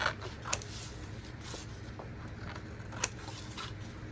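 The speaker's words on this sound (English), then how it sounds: "I'm just going to take my scissors and cut across." Scissors snip across a paper envelope in a faint, steady cutting with a couple of sharper clicks, heard alone at low level.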